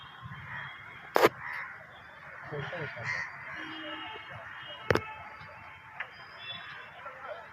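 A couple of sharp crow calls ring out briefly over a steady outdoor hum with faint voices in the background.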